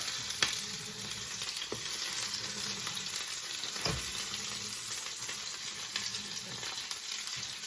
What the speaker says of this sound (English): I'm going to flip them on the other side as well now.